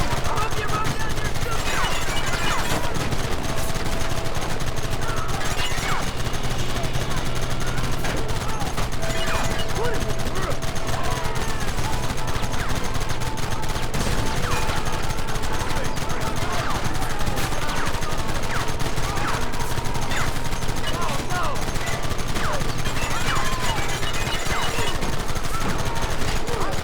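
Dense, continuous gunfire rings out in a Red Dead Redemption shootout on PS5, with rapid overlapping shots and bursts that run the whole time, mixed with shouting voices and battle noise.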